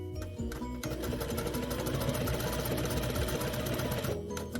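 A sewing machine runs steadily for several seconds, stitching fabric in a fast, even mechanical whir that starts abruptly and stops near the end.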